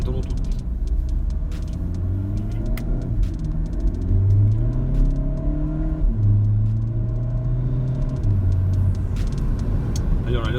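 A Volkswagen Golf GTD Mk7 tuned to Stage 2, about 240 hp and 530 Nm, pulls hard with a loud, rising diesel engine drone that climbs through the gears, heard up close inside the car.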